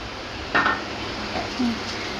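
A spoon stirs ground turmeric, cumin and garam masala frying with ginger and garlic in a pan for an Assamese fish curry, giving a few sharp metallic scrapes and clinks over a soft steady background hiss.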